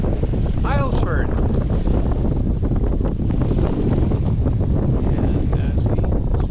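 Strong wind buffets the microphone aboard a 1972 Allied Princess sailboat beating into Islesford Harbor on Little Cranberry Island near Mount Desert Island, with constant rushing wind and water noise throughout.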